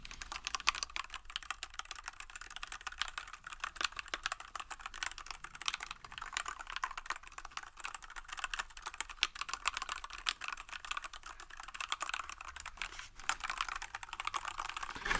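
Fingers type steadily on a modern wireless RGB keyboard with soft keys, giving a dense, close run of light clacks that never stops, with no talking over it.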